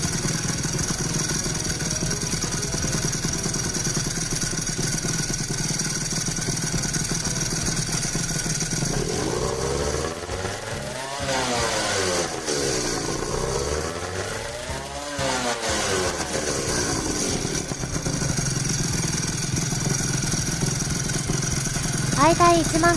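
A Honda NSR250R two-stroke motorcycle with a Jha expansion chamber exhaust idles with a buzzy rattle, then revs up and down twice in sharp sweeps before settling back, captured on a phone microphone at close range.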